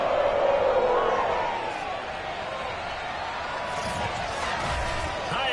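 Sold-out stadium crowd cheering for the Cincinnati Bengals as they take the field against the Pittsburgh Steelers in the Madden 22 football video game, a broad steady roar with a commentator's voice over it.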